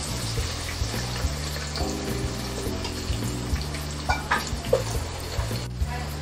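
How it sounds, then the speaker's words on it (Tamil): Sliced onions and small shallots sautéing in oil for country chicken biryani, a low sizzle under a steady mechanical hum with occasional stirring clinks, close and moderately loud. "இப்போ வதக்கி விட்டுக்கலாம். வெங்காயம் நல்லா வதக்கட்டும்."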